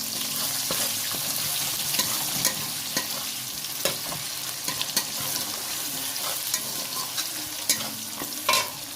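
Chopped onion sizzles in hot oil with whole garam masala for an egg curry, a steady frying hiss broken by scraping clicks and knocks as a spatula stirs the pan, close and loud.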